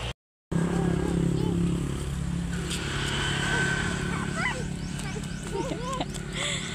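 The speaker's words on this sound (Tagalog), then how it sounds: "Oh, ang bibilis ng mga motor." Several motorcycles speed past on a nearby road, engines rising and fading one after another, with a dog barking and people talking in the background.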